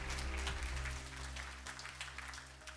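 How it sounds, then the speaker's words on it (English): Conference audience applauding a motivational speaker's talk on mental health, broad sustained clapping over a low steady hum, gradually easing in loudness toward the end. "clap that up"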